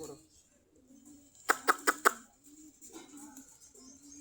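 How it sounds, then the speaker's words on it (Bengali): Desi Giribaj pigeons coo softly at close range, with a quick burst of four sharp claps midway. "আয় কবুতরগুলা এই যে এখানে বসে আছে"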